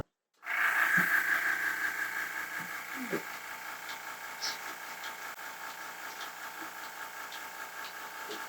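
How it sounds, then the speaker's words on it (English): A milking machine switches on and runs during cleaning of the lines, a sudden start settling into a steady, fairly loud mechanical hum with a high whine and faint rhythmic ticking throughout. "Oh, I have to turn the machine on."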